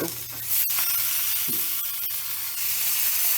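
Italian sausages sizzle steadily on a hot Blackstone griddle, a loud continuous frying hiss with occasional faint clicks and scrapes of a spatula.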